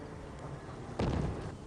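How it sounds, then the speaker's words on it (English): A loud explosion booms nearby at about the midpoint, a sharp blast followed by a rolling low rumble that decays over half a second, set against a steady background hum. "We've heard at least 20 loud explosions like that over the last 10 minutes or so."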